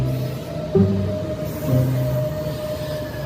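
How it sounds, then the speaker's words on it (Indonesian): A toy high-speed express train hums steadily at close range with a faint mechanical whir, rising briefly in two soft swells. "Widih, ini kereta api cepat."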